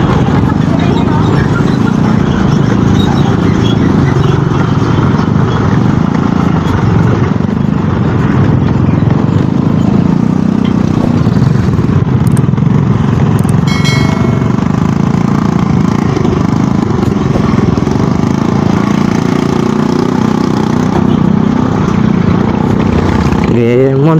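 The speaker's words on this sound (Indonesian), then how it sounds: "Motor trail paling lancar saya mungkin." Trail motorcycle on a road in Pucangro, Lamongan, a loud continuous rumbling engine drone with bumpy road noise throughout, nearby and unbroken.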